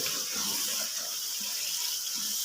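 Water is poured into a cooking masala for dal mash, a short steady splashing pour heard alone and close.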